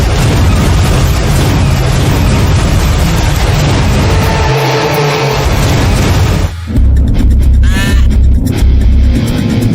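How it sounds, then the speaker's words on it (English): Sprint cars race around the quarter-mile dirt track at Williams Grove Speedway, a loud, continuous engine roar that swells and drops, ending with a brief cut and a renewed rumble. "When the race starts, the vehicles come blazing around the track."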